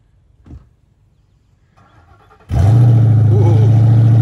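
A 2021 Dodge Durango with a Hemi V8 cranks and fires up loudly, settling into a strong, steady rumbling idle after a short quiet stretch with faint movement sounds beforehand.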